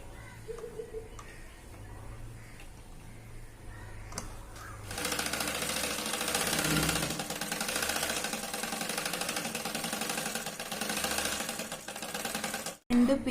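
A sewing machine stitches a double-folded fabric edge for a baby girl's dungaree skirt, starting after quiet handling and then running steadily and close for several seconds at a fast even whir before stopping.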